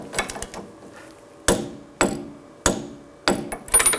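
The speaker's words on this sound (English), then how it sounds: "Just give it a couple taps." A hammer taps on a ball joint nut during front lower ball joint work on a 2000-2006 BMW X5, giving several sharp metallic knocks at uneven intervals. Each knock rings briefly before quiet gaps, and a few lighter clinks come near the start and end.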